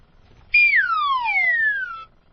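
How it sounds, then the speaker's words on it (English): A single comedic slide whistle sound effect, loud and clear, gliding downward in pitch for about a second and a half against near silence. "A wacky whistle."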